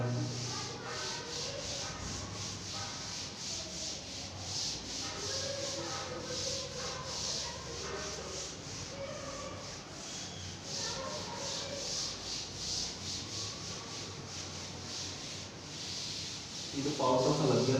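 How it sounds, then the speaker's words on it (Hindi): A hand rubs an object in a steady, continuous dry scrubbing with a faint hiss, fairly close and even in level throughout, during a class 12 chemistry demonstration on solid state. "इसको रब करते हैं"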